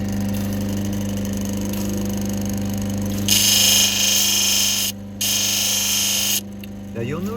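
An opal is ground against a water-fed lapidary wheel, a motor hum running under continuous hiss and spray that cuts out briefly twice, with a voice speaking over it.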